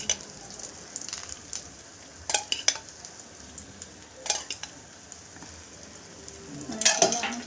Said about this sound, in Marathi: आपल्याला फिश हा घालायचा आहे आणि आपल्याला थोडंसं वरतून आणखीन थोडं तेल घालायचं आहे